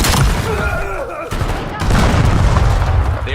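A frag grenade detonates in a Destiny 2 firefight, a loud booming blast amid dense gunfire and rumbling combat noise, with a brief dip before the chaotic battle din surges back.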